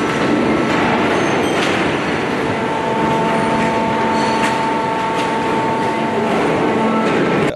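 A small locomotive-drawn train carries children around a recycling site, giving a steady, continuous rumble of rolling wheels and carriages with faint squeals over the whole stretch.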